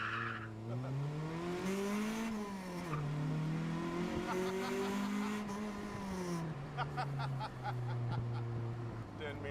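A Honda race car revs and spins its tires on track, a loud, continuous engine whine rising and falling with long tire squeal and skidding across several seconds.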